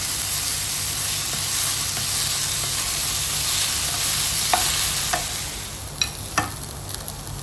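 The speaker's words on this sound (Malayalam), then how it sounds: "അപ്പോൾ നമുക്ക് അതിലോട്ട് സവാള ഇട്ട് കൊടുക്കാം" Sliced onion fries with ginger-garlic paste for a beef dish, a loud, even sizzling hiss that runs throughout, with a few brief utensil clinks near the end and no speech.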